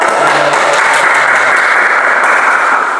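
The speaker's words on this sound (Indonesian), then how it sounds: "tepuk tangan dong." Loud, dense applause from a crowd, sustained clapping for a few seconds with no talking.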